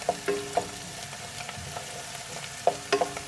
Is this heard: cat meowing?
no